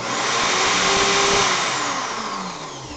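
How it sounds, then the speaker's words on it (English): A power drill running in reverse whirs loudly and steadily for a few seconds, its motor pitch shifting slightly as it winds down. "drill in reverse"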